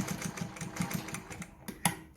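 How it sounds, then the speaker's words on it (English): A Phoenix Model 228 sewing machine with a size 18 needle, stitching in a quick, even chatter of repeated thumps and ending with a couple of sharper clacks, close up. "this is the Phoenix Model 228 sewing machine"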